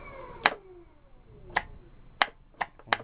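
Turbo overdrive solenoids on a 24-volt circuit clicking as they engage: five sharp, dry clicks at irregular intervals, close and crisp against a quiet background hum.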